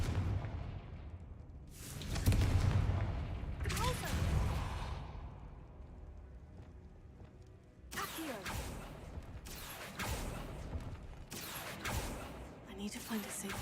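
Confringo blasting-spell explosions in the Hogwarts Legacy video game, several loud bursts with whooshing tails going off in separate waves, a voice speaking between them.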